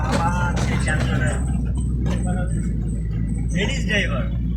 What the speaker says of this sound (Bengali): ঢাকার শহর আবার সেই যানজটে।